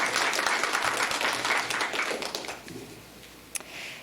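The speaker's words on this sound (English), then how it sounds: "A round of applause for our participants again" Participants at a 4-H county public speaking competition get a round of applause from the audience, steady moderate clapping that fades after a few seconds into quiet room noise and one last stray clap.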